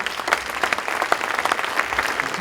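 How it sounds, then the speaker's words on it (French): Audience applause at a drone conference, a brisk round of clapping from a modest crowd with distinct individual claps, close and steady for a couple of seconds. "on peut vous applaudir"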